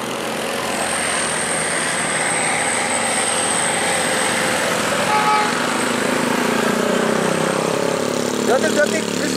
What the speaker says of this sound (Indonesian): Detik-detik bis mikro menanjak.